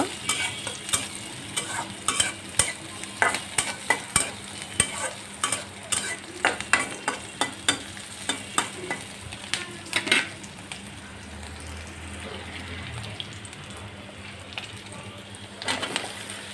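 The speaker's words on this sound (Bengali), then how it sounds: "তেল দিয়ে পেঁয়াজ কাঁচামরিচ দিয়ে দিছি সামান্য একটু ভেজে" Onions and green chillies frying in hot oil in a pan, a steady close sizzle with repeated sharp scrapes and clacks of a spatula stirring, which later ease into a quieter sizzle.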